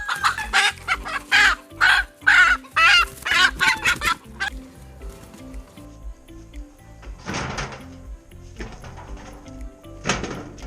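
A chicken clucks and squawks in a quick rhythmic burst close by on a homestead as it is carried and moved into its pen, then calmer scattered clucks follow with a faint clatter, no talk.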